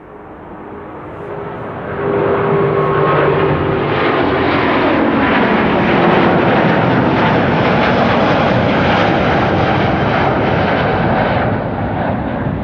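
Jet airliner on its takeoff roll at Amsterdam Schiphol, a loud broadband engine roar that swells after about two seconds and holds steady and close throughout, with no talk.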